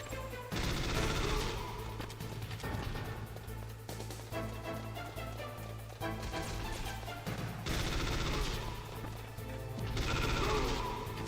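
Gunfire in the video game Metal Gear Solid 3, dense bursts of shots and crashes layered over constant game music and a low steady hum, fairly loud throughout with no talking.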